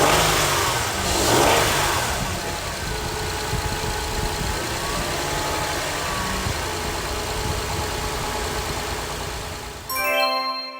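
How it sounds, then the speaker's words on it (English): A car engine starting and revving, steady loud engine roar with throttle swells sustained for about ten seconds, then cutting off abruptly, close and alone with no talk. "The answer is a car starting."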